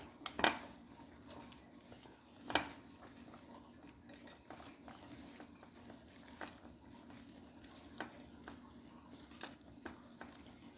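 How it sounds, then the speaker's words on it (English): Vegetables being mixed with seasoning and butter in a bowl, a few sharp clinks of utensil on dish and soft intermittent scraping, quiet and close. "we're going to just go ahead and mix up the season with the vegetables and the butter"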